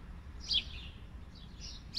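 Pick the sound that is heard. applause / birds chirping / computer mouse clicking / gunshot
birds chirping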